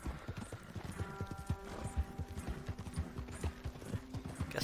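A horse's hooves clip-clop at a steady trot in a PS4 video game, a close, even rhythm of hollow knocks with a faint mechanical hum beneath.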